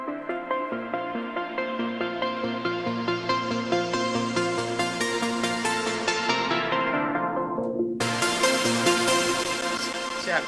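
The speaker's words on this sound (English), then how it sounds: "a really, really short decay plucky sound to opening up the filter so it's a full" A bright plucky synth melody repeats in quick notes, its tone growing brighter as a filter opens, then dulling and suddenly snapping back fully open.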